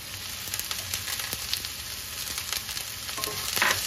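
Chopped onions and spring onions sauté in hot oil in a pan for eggplant bharit, a steady close sizzle with scattered stirring clicks and pops and no speech.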